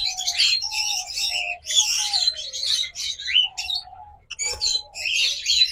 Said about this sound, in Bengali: এগুলোকে বলে অ্যালবিনো ফিশার জোড়া।